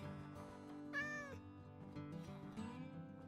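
A Minecraft cat meows in the game over a steady background music bed, with a couple of clear meow calls rising above the soft melodic tones.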